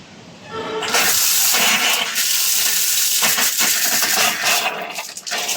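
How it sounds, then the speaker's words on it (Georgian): Water gushes from a household tap after a short quiet start, a loud, steady rushing splash close by, with no talking. "ჯერ ნახოთ წყალი მოდის თუ არა."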